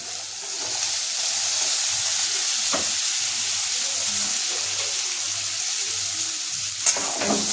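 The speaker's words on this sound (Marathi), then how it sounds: "आता इथे आपण चिरलेली गवार आणि बटाटा जो आहे तो टाकायचा आहे।" Chopped cluster beans and potato fry in a pan with a continuous close sizzle and hiss, with a soft low pulsing underneath and a couple of brief clinks of utensils.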